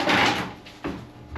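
A door on a yacht under rebuild being swung shut produces a close wooden thud and scrape, followed by a couple of lighter knocks as it settles.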